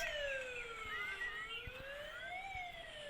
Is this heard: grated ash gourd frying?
no